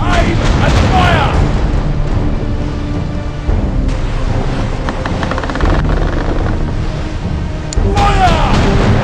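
Ship cannons fire in a naval battle video game, with heavy, rumbling booms layered over a dense, loud battle din and scattered shouting voices.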